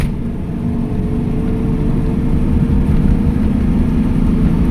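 Steady in-cabin engine drone from a Mercedes-Benz W123 280S fitted with a Toyota 2JZ engine and automatic transmission, building gently under acceleration with constant road rumble, loud and close, no voices.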